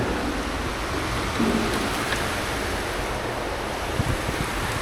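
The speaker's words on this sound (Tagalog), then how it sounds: "Lakas ng ulan." Heavy rain roars continuously, a dense steady wash of noise with occasional faint knocks underneath.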